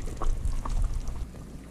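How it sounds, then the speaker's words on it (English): Chunks of turnip drop into a pot of boiling water for porcupine pie, giving a few soft splashes and plops over a steady low bubbling, close and moderately loud, with no talking. "Alright, now I'm going to add some turnip."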